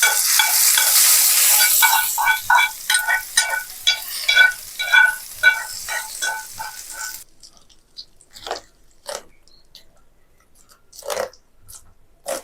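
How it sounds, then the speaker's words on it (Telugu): Hot tempering sizzles loudly as it is poured into gongura chutney, then a spoon stirs it through in a run of short scraping and clicking strokes that soften to sparse, quieter taps. "రెడీ అయిన తాలింపుని ఇలా చట్నీలో యాడ్ చేసుకోవాలి."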